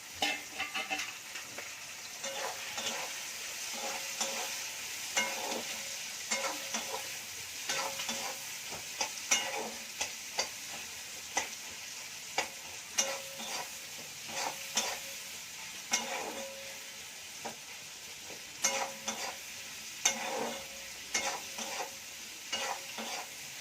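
Chopped onions are stir-fried in a pan with green chilies for chicken masala: a constant hiss of frying under frequent, irregular spatula scrapes and taps against the pan, close and with no talking.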